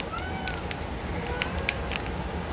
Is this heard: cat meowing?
yes